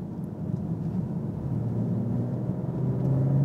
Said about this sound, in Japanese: アクセルの踏み込み方によって音色がすごくいい感じで変わっていくんですよ